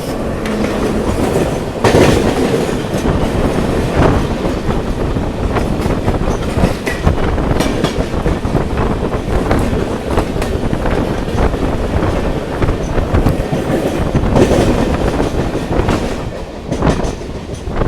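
A train rumbles past loudly and continuously on the Santragachi to Jhargram line, heard from a MEMU train, with rhythmic clattering of wheels on rails and gusty wind noise against the microphone.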